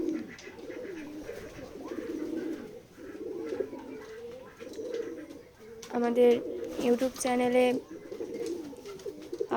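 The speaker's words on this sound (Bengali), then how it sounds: "আমাদের কবুতরগুলো আরও বাচ্চা দিচ্ছে।" Pigeons coo repeatedly at close range in a village loft, soft rolling low calls throughout, while someone talks loudly over them partway through.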